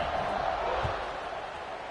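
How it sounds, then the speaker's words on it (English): A football video game stadium crowd buzzes as a steady broad roar, moderately loud and continuous, with faint speech mixed in. "this crowd is buzzing after that last score"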